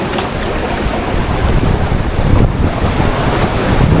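Ocean waves wash and break along an island shore in a steady, rushing roar, heavily buffeted by wind noise, with no voices.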